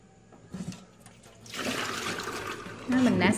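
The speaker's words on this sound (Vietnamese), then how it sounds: "Cùi bưởi này mình xả, mình bóp với nhiều nước nè các bạn." Pomelo pith is rinsed and squeezed in plenty of water, with close splashing and sloshing that builds into a continuous rush of running water, and a voice talks over it.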